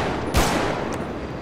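A single Desert Eagle pistol shot from a FiveM gun sound pack for GTA V cracks loud and sharp, then trails into a long, rumbling reverberant tail.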